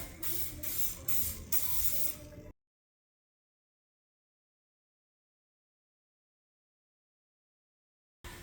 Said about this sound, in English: I just use a spray can.